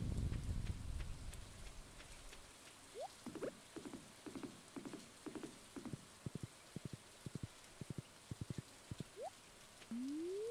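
Light rain patters in the Stardew Valley video game, a soft steady hiss under a series of small rhythmic clicks and short chirping game sounds, quiet and without talk.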